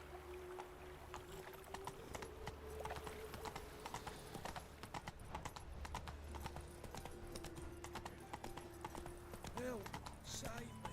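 Horse hooves clip-clop at a steady trotting rhythm in The Witcher 3 video game, continuous and fairly close, with faint ambient game sounds and occasional voices in the background.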